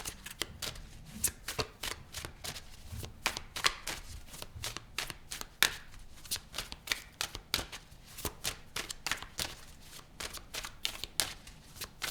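Tarot cards being shuffled close by, a long run of quick crisp riffling slaps in uneven bursts, fairly quiet, with no talking.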